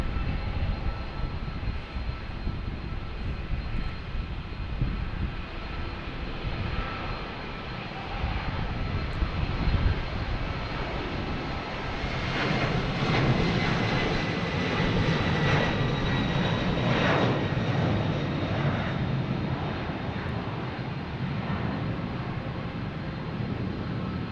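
Boeing 767-300 jet airliner departing Boston Logan for Edinburgh, a steady broadband engine roar that builds and swells as it passes, moderately loud and continuous with no talk.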